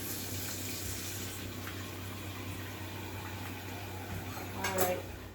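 Water runs steadily from a tap in a low, faint hiss, with a brief clatter near the end.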